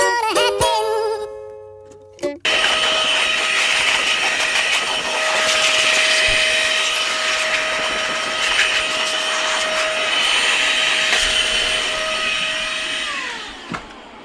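Dust being blown out of a computer, a loud sustained high-pitched whine like a compressed-air or electric blower that starts abruptly after a short musical intro and runs steadily before cutting off near the end.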